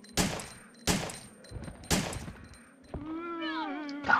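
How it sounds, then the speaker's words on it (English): Three loud, sharp gunshots spaced about a second apart ring out in Resident Evil 3 Nemesis, each with a short decay, followed by a tonal creaking or groaning game sound and a final thump. "Reload the gun, because we're running out of ammo."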